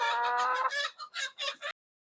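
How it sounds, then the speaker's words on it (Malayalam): Chickens cluck nearby in a quick series of short, bright calls, ending abruptly into silence. "നമ്മുടെ ചെറിയ കോഴികളൊക്കെ ഇറങ്ങിയിട്ടുണ്ട് പുറത്തേക്ക്"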